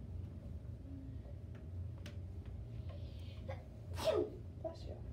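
A single sharp sneeze bursts out partway through a quiet phonics lesson recording, standing out briefly over a low, steady background hum.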